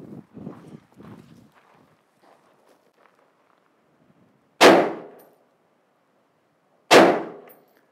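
Two M80 7.62x51 (.308) rifle rounds strike an armor plate, each a sharp, loud metallic clang with a brief ringing decay, spaced about two seconds apart after some faint shuffling and handling noise.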